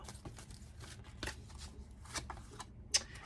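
A deck of oracle cards is shuffled by hand in a quiet room, a series of soft riffling bursts and papery slaps at an irregular rhythm, close and fairly faint.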